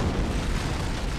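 A heavy antimatter charge detonates aboard a ship in Halo: Combat Evolved, a dense low rumbling boom that fills the whole moment at steady loudness with no voices over it.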